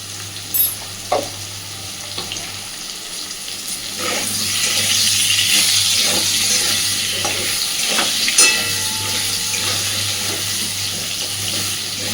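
Potatoes fry with turmeric in a pan, giving a steady sizzle and hiss with occasional stirring scrapes and clinks, close and fairly loud.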